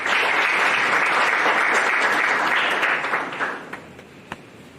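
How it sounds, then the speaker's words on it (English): An audience at an event claps together in loud, dense applause that holds steady for about three seconds, then thins out into a few last scattered claps. "A round of applause, please."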